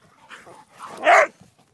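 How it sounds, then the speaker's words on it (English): Dogs barking at close range: a couple of soft yips, then one loud, sharp bark near the end, alone with no talking. "Look at those dogs."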